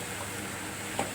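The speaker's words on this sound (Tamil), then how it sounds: "கொத்தமல்லியை நல்லா ஒரு வதக்கிடுங்க" Coriander leaves sauté with onion and tomato in a pan, giving a steady, soft sizzling hiss with one faint clink near the end.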